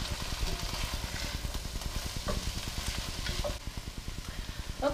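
Onions soften over medium heat in a pot, giving a steady low sizzle with a dense, rhythmic crackle and occasional stirring, fairly quiet and unbroken.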